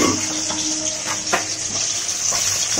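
Fish shallow-frying in a pan with onion, tomato paste, garlic, cumin and green chilli, giving a steady close sizzle with a few soft stirring scrapes and no talk.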